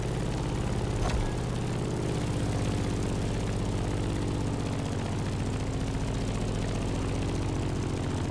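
A propeller airplane flies in the racing game The Crew Motor Fest, a loud, steady engine drone with a pulsing beat that holds throughout, alone without voices.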